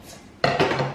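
A knife cuts into a Japanese cake on a plate: a quiet stretch, then a sudden scrape and clink of the blade against the plate, followed by a second rubbing scrape, close and fairly loud.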